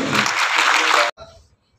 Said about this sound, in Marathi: दर्शनजीसाठी जोरदार एका टाळ्या झाली